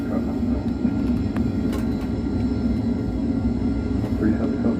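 A jet airliner taking off down the runway in Microsoft Flight Simulator, heard as a steady, heavy engine roar and low rumble that holds throughout without pause.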